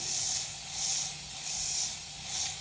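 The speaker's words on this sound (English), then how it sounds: "We usually walk in a room and we give it a spray. So I'm gonna spray over this chair." An aerosol disinfectant can sprays over a chair in several long hissing bursts that swell and fade, close by and steady.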